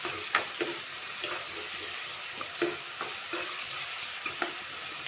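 A tomato and okra curry sizzles steadily in a pan while a spoon stirs it, giving sparse light scraping clicks over the constant frying hiss, close up and alone.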